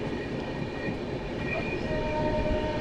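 An express train rushes past at full speed on the main line in dense fog, a loud continuous rumble and rattle of wheels with faint squeal, heard from aboard another train.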